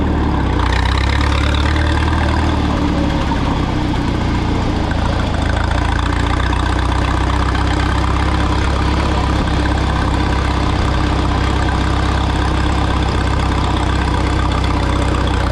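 A Minneapolis-Moline 4 Star tractor engine with a straight pipe idles loudly and steadily nearby with a raw, unmuffled rumble and a faint knocking beat throughout.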